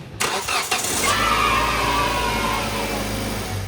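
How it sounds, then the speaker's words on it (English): A couple of clicks, then a Hyundai car engine cranks and catches after a battery light repair, settling into a steady idle nearby. "Now we just start the engine up and see if the battery light went away."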